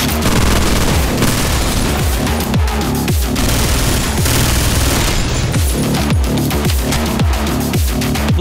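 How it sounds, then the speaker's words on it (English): Sustained automatic fire from the AR2, a fictional rifle in the video game OTXO, loud and dense with rapid repeated shots and booming impacts layered over a constant backdrop of game sound and music. "Can't really be wrong about the AR2, it's a made-up gun."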